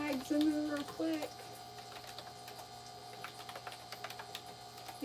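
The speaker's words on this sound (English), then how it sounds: "You guys can probably hear me typing." Quick bursts of keyboard typing with rapid clicks, partly under a louder voice at the start, then lighter intermittent tapping against a steady hum.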